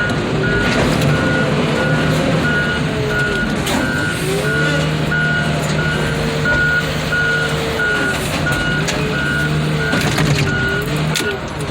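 An old GMC Value Van bread truck reverses, its backup alarm beeping in a steady, evenly spaced series over the low rumble of the engine. Loud and close throughout.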